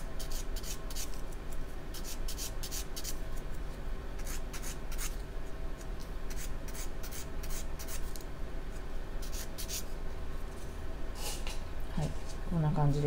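A nail is worked with an emery board and buffer for a jewel nail design, giving a continuous close scratchy rasp with repeated short strokes, while a person talks over it.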